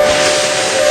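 A steam engine gives one sustained, loud whistle with a steady tone over a rushing hiss of steam, close and unbroken for the whole moment.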